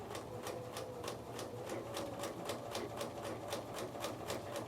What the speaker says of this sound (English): and I would start sewing again. And I just feed it in like this.